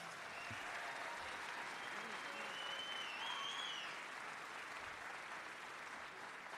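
Sustained applause from a graduation ceremony audience at Chester High School, a steady dense wash of clapping with crowd murmur, fairly distant and even in loudness throughout.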